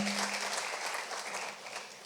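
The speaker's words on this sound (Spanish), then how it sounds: "damos un aplauso al Señor" Congregation clapping for the Lord during a church service, a dense, steady burst of applause that fills the room for about two seconds and tapers slightly at the end.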